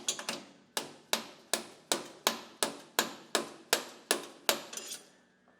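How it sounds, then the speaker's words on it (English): Hammer blows on a steel punch drive out a pin during a lid spring replacement on a 4 Head PFE-500/PFG-600, about eleven sharp metallic taps at a steady, slightly quickening rhythm, close and clear with short ringing decays. "use our hammer and our punch to tap out our pin"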